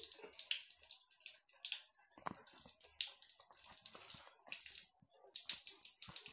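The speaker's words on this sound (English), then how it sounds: "this is the water flowing" Running tap water splashes and gurgles in uneven bursts, close by, with brief interruptions as a finger is held in the flow.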